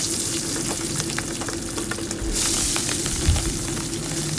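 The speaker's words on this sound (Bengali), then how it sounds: "এবার মাছটা ভেজে নিচ্ছি।" Fish rubbed with salt and turmeric frying in a pan, a loud continuous hissing sizzle that swells partway through, with a few low knocks and no talking.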